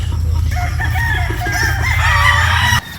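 A pure cash line gamefowl stag crows at a game farm in San Jose, Batangas, one loud, near crow running about three seconds over steady low background hum, cutting off abruptly near the end.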